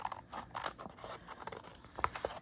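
Scissors trim sewing thread, giving a few quick, faint close snips and scrapes spread over about two seconds.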